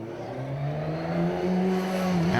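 Radical SR1 race car engine droning as it leaves the Silverstone pit lane, a steady moderately loud tone rising gradually in pitch, with no talk over it.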